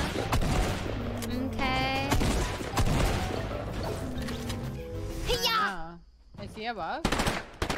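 In a video game, rapid bursts of SMG fire sound alongside other in-game gunfire and effects, heard under people talking excitedly.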